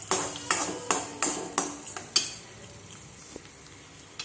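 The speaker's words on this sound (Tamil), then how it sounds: "இப்போ பாருங்கள், முட்டையை நல்லா வறுத்தாச்சு" Three eggs seasoned with salt being stirred in a frying pan, a metal utensil scraping and clinking in a quick run of sharp strikes over a soft sizzle, then a few scattered taps as the sizzle fades.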